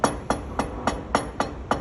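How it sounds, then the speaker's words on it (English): A hammer taps metal while setting a bezel ring in jewelry making, seven light, evenly spaced strikes close by with a short ring after each. "it's easier to listen to the sound that the hammer makes to understand how hard I'm hitting it"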